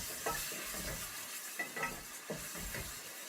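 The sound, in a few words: tomatoes and fresh chili sizzling in a pan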